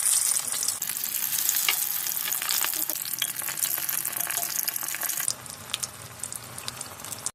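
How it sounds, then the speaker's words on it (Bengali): Battered bok flower pakoras fry in hot oil, giving a steady, close, dense sizzle with scattered crackles that eases slightly in volume toward the end, with no voices. "এরপর ফুলটা ব্যাটারে মিশিয়ে তেলে ভেজে নিতে হবে।"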